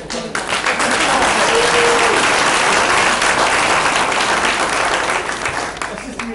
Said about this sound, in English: a round of applause for Mr. King.